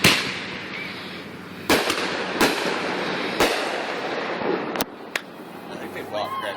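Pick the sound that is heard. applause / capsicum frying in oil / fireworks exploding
fireworks exploding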